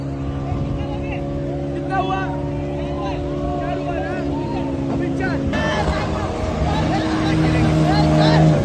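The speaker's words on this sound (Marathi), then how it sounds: "सहकारी मित्र 6 जण फुल बनाना राईड करायला निघालेले." Speedboat engine at sea towing a banana boat ride, a steady motor drone running throughout with voices talking over it.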